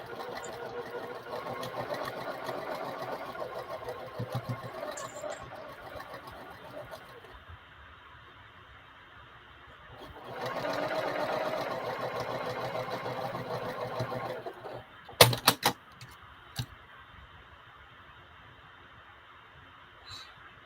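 A sewing machine stitches a lined drawstring bag, running in steady bursts of motor whir and needle chatter, loudest in a longer run near the middle, followed by a few sharp clicks and handling knocks.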